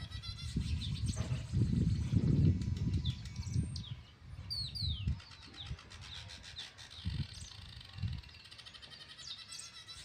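Birds perched close by on a tree in a home kitchen garden give deep, repeated cooing calls, joined by scattered high chirps and tweets.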